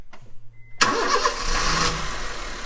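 A car engine cranks briefly and then catches, roaring into a loud steady idle close by.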